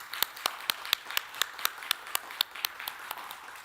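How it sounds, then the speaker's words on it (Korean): Church congregation applauding during a Sunday worship service to welcome two new teachers for the infant and preschool departments, heard as a steady run of sharp, evenly spaced claps with light crowd texture and no talking. "우리 화면으로 우리 전사님들 위해서 박수로 환영하겠습니다"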